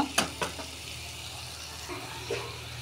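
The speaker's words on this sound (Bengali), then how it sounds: "বড়াগুলো উল্টে দেবো 2 পিঠ ভালো করে ভাজার জন্য" Banana fritters sizzle in hot oil as they are turned over, with a few sharp clatters of the utensil near the start and a steady soft frying hiss throughout.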